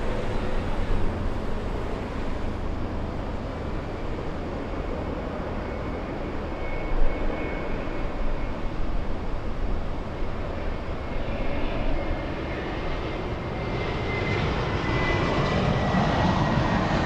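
Airliner jet engines roar at LAX airport in Los Angeles, a loud, continuous broadband rumble that swells slightly as a plane passes, with no talking.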